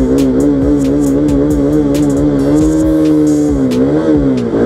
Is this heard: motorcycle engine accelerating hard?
yes